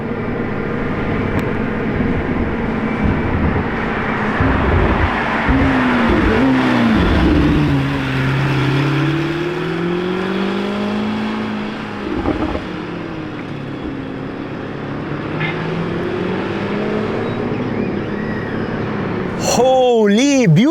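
A Lamborghini Urus SE drives past on the road, its loud engine rising and falling in pitch as it revs, with a dense roar of other traffic and a second sweep near the end.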